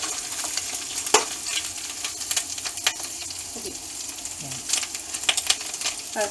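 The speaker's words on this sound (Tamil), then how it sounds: "சில்லியும் இப்படியே ஒயிலில் கொஞ்சம் ஃப்ரை பண்ண வேணும்" Egg and two green chillies frying in oil in a pan for egg fried rice, giving a steady close sizzle with occasional stirring scrapes and clicks, no talking.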